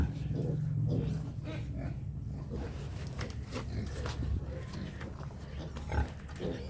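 Native pigs in the Philippines grunt in short, repeated bursts at close range, with a mixed-breed mother among the litter, over steady farmyard background noise.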